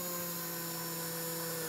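A power driver drives a screw into a hinge on an enclosure panel with a steady, close, continuous whine.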